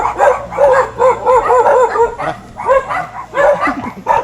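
Dogs bark repeatedly in quick bursts, fairly close and loud, with a few higher yips among the barks.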